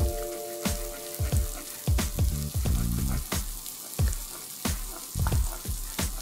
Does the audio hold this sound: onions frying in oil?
yes